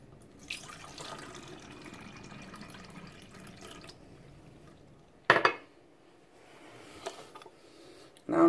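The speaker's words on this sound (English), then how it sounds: "So we're going to pour the water in first." Water is poured into a bottle to mix a homemade natural disinfectant, a soft steady trickle broken by a few sharp clinks and knocks of the container.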